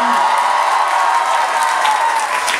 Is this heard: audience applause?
yes